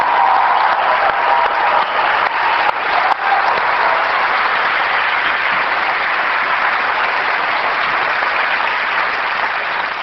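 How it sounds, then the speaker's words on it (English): Sustained, dense applause from a large audience at a 1999 Apple special event honoring the Chiat/Day ad agency, loud and even for about ten seconds with a few sharper claps near the start. "I'd just like them to stand up for all this amazing work and take a round of applause"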